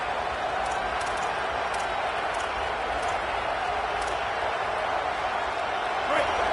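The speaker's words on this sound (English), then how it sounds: "The roar of the crowd trying to fuel this defense to keep them pinned in their own end" Steady, continuous roar of a stadium crowd in the NCAA 27 college football video game, a dense even wash of noise with no breaks.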